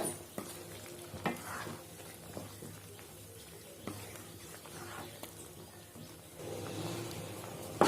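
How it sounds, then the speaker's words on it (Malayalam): Soya chunks are stirred into a simmering kurma curry, with soft wet scraping and spoon strokes over a low, steady sizzle, close and fairly quiet, and no speech. "ഇനി ഇതിനെ കറിയിലേക്ക് ചേർത്ത് കൊടുക്കണം. ഇതെല്ലാം കൂടിയിട്ട് നന്നായിട്ടൊന്ന് യോജിപ്പിച്ച് കൊടുക്കുക."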